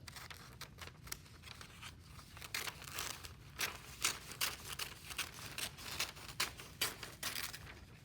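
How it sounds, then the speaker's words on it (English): Scissors slicing a single sheet of newspaper in half, with steady, rhythmic snips and crinkling paper up close, growing a little louder partway through, and no voices. "I'm just gonna cut half of it"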